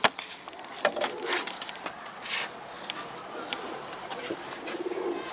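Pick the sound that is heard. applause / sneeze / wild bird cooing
wild bird cooing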